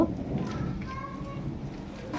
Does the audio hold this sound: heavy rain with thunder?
yes